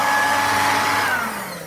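A Dirt Devil DD520 hand vacuum runs with a loud, steady motor whine that starts high and then slowly winds down, heard close and alone.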